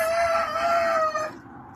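Chickens call nearby, a drawn-out clucking cry trailing off into quiet background.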